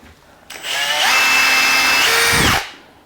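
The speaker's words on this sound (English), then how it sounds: "and just drill those pilot holes." A power drill with a 1.5 mm bit spins up and whines for about two seconds while boring pilot holes through a Kreg concealed hinge jig, then winds down and stops.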